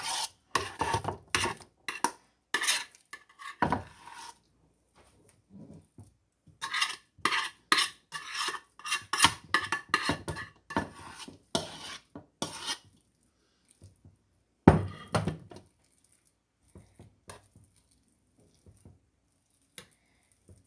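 A utensil scrapes and smooths mashed potatoes across a cottage pie in a dish, producing repeated close rasping strokes in irregular bursts with short pauses between.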